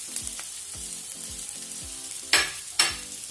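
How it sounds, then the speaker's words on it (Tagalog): Garlic frying in oil for sautéed pechay, a soft steady sizzle with a few light clinks early on and two sharp bursts of spattering near the end, close by. "lagyan natin ang bawang"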